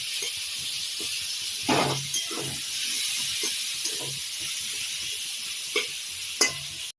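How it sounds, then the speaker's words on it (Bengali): Long-sliced onions frying in oil for a Shahi Mughal chicken, a steady close sizzle with a few louder scraping stirs of the spatula scattered through. "পেঁয়াজগুলো হালকা লাল করে একটু ভেজে নেব।"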